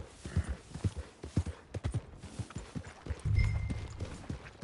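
Horse hooves clip-clop at a steady walking rhythm in Red Dead Redemption II, fairly close and distinct, with a brief low rumble near the end and faint ambient background.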